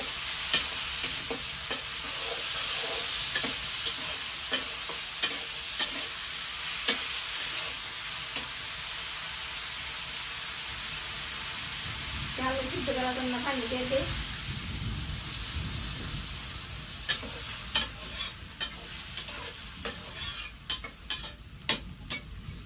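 Potatoes fry and sizzle in a pan for a village-style potato bhaji, with steady frying hiss throughout and clattering stirring strokes, some sharper scrapes near the end, and a brief voice in the middle.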